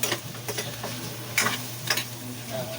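Chicken tinola being stirred in a pan, a soft scraping and light sizzle with a few sharper ticks of the utensil against the pan, close and fairly quiet.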